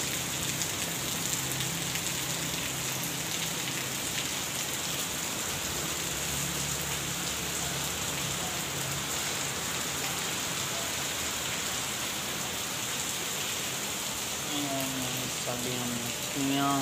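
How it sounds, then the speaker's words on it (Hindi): Heavy rain pours steadily during a storm in Lahore, a dense, continuous hiss of drops on surfaces, loud and close throughout with no clear pauses. "बारिश वधदी आंदी"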